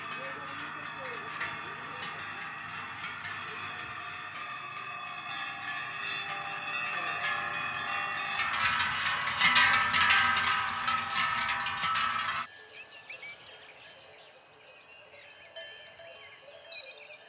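Cowbells and small bells on a herd of cows in an alpine summer pasture, a dense steady jangle of many bells with faint animal calls, swelling louder mid-way before dropping to a thinner, more distant ringing.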